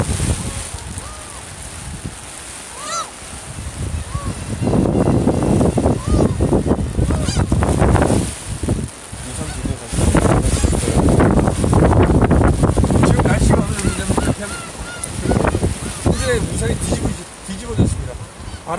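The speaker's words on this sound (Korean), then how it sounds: "바람이 굉장히 센데요." Strong gusts at Dodong harbor on Ulleungdo batter the microphone in loud, roaring waves that rise and fall, while a person talks through the buffeting.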